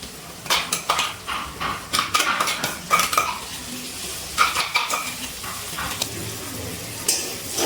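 Metal utensil scraping and clanking in a pan as blended tomato is stirred into frying masala for a Bengali jackfruit-and-prawn curry, a steady run of irregular scrapes and taps over a faint sizzle, close up, with no talk.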